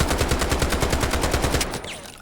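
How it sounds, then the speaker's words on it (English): Automatic gunfire at a wall on a Delta Force firing range in a video game, a loud rapid burst of evenly spaced shots lasting under two seconds, then a brief fading tail. "I'll shoot this wall."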